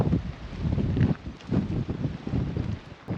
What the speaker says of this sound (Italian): Ecco il mare, dovevo sentirlo un po' con un po' di vento